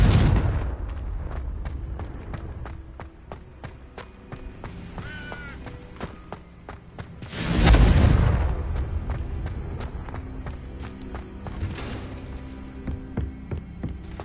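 A Confringo fire-blast spell explodes in the video game Hogwarts Legacy, a loud booming burst in the middle amid sharp clicking combat sounds, with a few smaller blasts around it.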